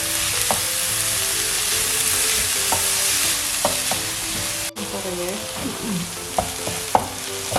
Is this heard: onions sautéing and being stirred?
yes